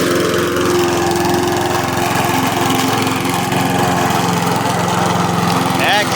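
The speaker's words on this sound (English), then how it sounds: "here's the cutting grass demo" A restored push lawn mower, bought broken for $30, runs steadily and loudly while cutting grass, its engine drone continuous and close throughout.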